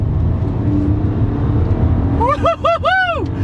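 A Toyota Aurion Sportivo's engine roars loudly and revs hard, pitch rising and falling through quick gear changes, close and dominant with no voices.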